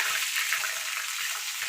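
Rohu fish pieces frying in hot oil in a home kitchen, a steady close sizzle and crackle throughout.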